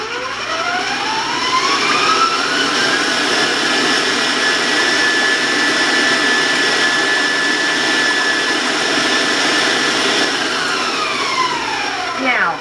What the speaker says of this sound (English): Now I'm going to warn you about the sound, because it can be loud. My mixer can be loud.